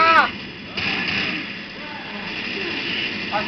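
Heavy mounted turret gunfire in the zombie shooter game Left 4 Dead, a loud rumbling burst of shots that runs steadily through the clip, with brief game sound effects at the start and end.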